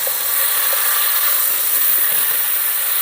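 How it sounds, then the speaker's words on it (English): Beef sears in a pan over very high heat, giving a loud, steady, close sizzle and hiss that holds level throughout with no talk. "Now this is on a very high heat because we're searing, not cooking"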